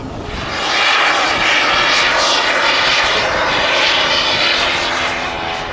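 A large model Vulcan jet aircraft flies a big loop at an airshow, its engine roar steady and loud throughout, swelling slightly as it climbs, with no voices over it.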